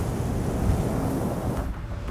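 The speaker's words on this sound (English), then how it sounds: "time to go, too windy." Strong wind outdoors in Alaska buffets the microphone with a steady, loud, rumbling roar that barely changes over a couple of seconds.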